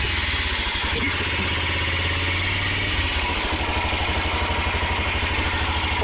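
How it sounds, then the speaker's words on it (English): A motorbike engine idles nearby in a village setting, a steady low chugging pulse that runs throughout at a constant level, with faint background voices. "get on the motorbike so that we can go and kununulia chakula"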